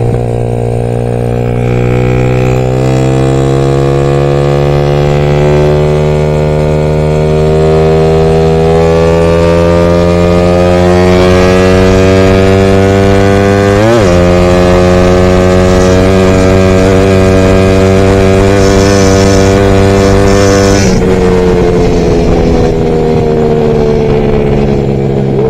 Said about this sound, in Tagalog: Yung birit natin doon, So, ang sarap yung biritin para, no. Walang hagok, walang pugak, maganda yung dulo.